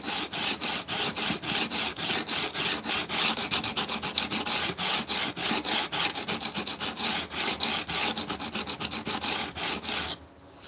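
A Japanese plane blade rubbed back and forth on a sharpening stone, rhythmic gritty rasping strokes repeating steadily and close for about ten seconds, ending abruptly with a brief pause.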